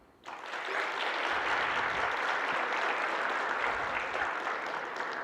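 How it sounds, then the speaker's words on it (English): An audience at an inaugural session for IT professionals breaks into clapping after a brief quiet moment, a dense, even roar of many hands sustained steadily to the end. "All those who like to eat sweets will clap."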